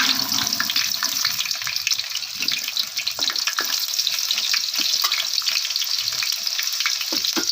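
Chopped onion fries in very hot oil for a mutton curry, giving a loud, continuous crackling sizzle with spitting pops and occasional stirring scrapes; no one talks.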